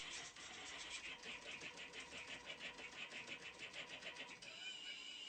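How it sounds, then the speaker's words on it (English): A homemade DIY CNC machine plots a file, its small motors giving off a steady, faint whirring buzz with a fast pulsing texture that shifts in pitch partway through, without any talk. "With sending the start command, the machine begins to plot the file."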